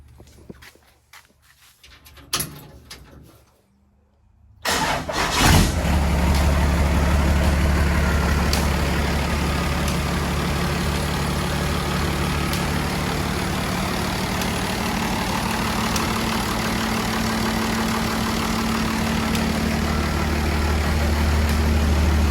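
A Cummins diesel engine in a 1940 truck with 4-inch stainless stacks rumbles into a steady, deep idle after a few seconds of quiet handling noises, holding a loud, even drone throughout.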